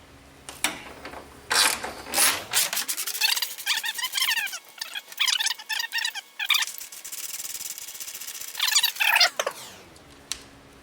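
Bolts being ratcheted loose and pulled from the strut brace of a 2021 BMW M440i, with repeated close clicking and metallic rubbing in bursts, including two long ratcheting runs.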